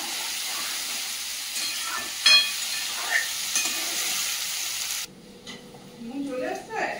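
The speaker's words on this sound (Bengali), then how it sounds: "এই জলের মাছটা রান্না হবে।" A freshwater fish cooks in a pan over a lowered gas flame, giving a steady sizzle with a few stirring clinks. After about five seconds the sizzle drops away and a voice speaks over quieter kitchen noise.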